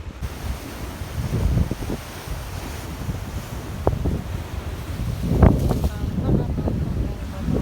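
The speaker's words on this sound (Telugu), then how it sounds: "అదిగో ఎగురుతున్నాయి కెరటాలు ఎగురుతున్నాయి అక్కడ" Ocean waves surge and crash at Pondicherry beach, a rolling roar with gusty wind buffeting the microphone and a sharper splash near the middle, while people talk faintly underneath.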